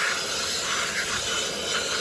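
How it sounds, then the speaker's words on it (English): A Milwaukee M18 cordless leaf blower runs steadily and loudly, a continuous airy rushing hiss with no pauses, used during an air conditioner tune-up. "I got my Milwaukee M18 leaf blower."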